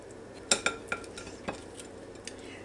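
A knife spreads butter on freshly cooked buttermilk biscuits, making a few light clinks and scrapes close by against a quiet kitchen background.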